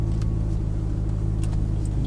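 A learner driver's car reverses slowly into a parking spot, its engine giving a steady, close, low rumble with no real revving.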